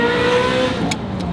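A 1995 Ferrari supercar's engine and exhaust hold a steady, smooth drone with a rich harmonic tone, sustained and fairly loud throughout the short stretch.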